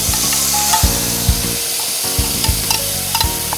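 Gravy sizzling and frying in a pan with cloves, cardamom and cinnamon, loud and steady close up, broken by several stirring scrapes and clanks of a utensil against the pan.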